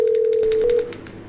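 A steady telephone tone rings out on a call line for about a second before dropping away, leaving a faint hiss as the call to a podcast guest connects.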